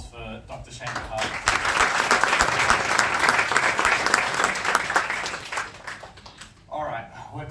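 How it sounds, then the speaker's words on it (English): Audience applause at an awards ceremony for high school achievers, a sustained wave of clapping from a crowd with voices mixed in, tapering off near the end. "Another round of applause for Dr. Shane Hart."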